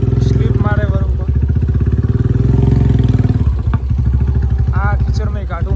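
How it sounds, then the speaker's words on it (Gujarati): A motorcycle engine labours through muddy village roads, revving and clattering loudly and close, with a voice talking over the straining engine. "આ કીચડમાં કાઢવું મુશ્કેલ હોય છે"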